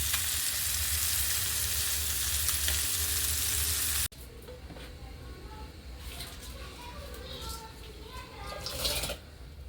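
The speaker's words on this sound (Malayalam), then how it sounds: "അങ്ങനെ മത്തി ഇവിടെ കിടന്ന് പൊരിയുന്നുണ്ട്." Sardines sizzle and crackle steadily as they fry in hot oil in a home kitchen, a continuous close hiss with faint background sounds; the first part is louder and denser before it settles to a softer sizzle.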